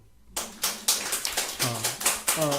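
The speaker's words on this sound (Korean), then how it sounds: "박수." A church congregation at a Sunday service claps briefly, a short run of sharp, scattered claps rising out of quiet, with a voice sounding over the later claps.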